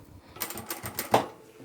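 A sewing machine stitches across a small fabric scissor keeper pouch, giving a short burst of rapid, rhythmic mechanical clatter at close range that rises and then slows to a stop.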